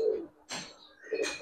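A military pigeon held in hand gives soft cooing calls, two low coos separated by a brief rustle of feathers or handling, close and fairly quiet.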